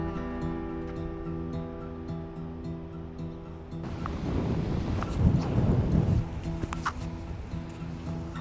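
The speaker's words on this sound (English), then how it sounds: "Holy cow, it is windy here." Strong gusty wind at Mattole Beach campground on the Lost Coast of California: loud, rough microphone buffeting bursts in partway through and roars on over a steady low hum.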